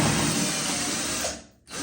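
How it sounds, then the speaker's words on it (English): Brief steady whine of a power drill boring a hole to mount an L-shaped corner shower curtain rod, then a short stop and the motor starting again. "go ahead and drill all your holes like that."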